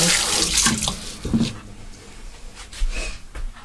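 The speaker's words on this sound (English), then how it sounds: "let me rinse this hand off" Water gushes loudly from a kitchen tap as a hand is rinsed clean of oily dough, a close, broad splashing that shifts as the hand moves through the stream.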